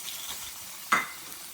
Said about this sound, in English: Add your bologna. Turn that heat up a little bit if you don't hear a sizzle.